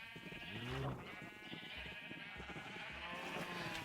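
Several sheep bleat in wavering, nasal calls across a Minecraft sheep and cow farm. The bleats are close and fairly loud and overlap a busy game background.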